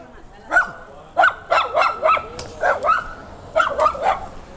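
A dog barks repeatedly in short, uneven bursts, some single and some in quick pairs, fairly close against a faint outdoor background.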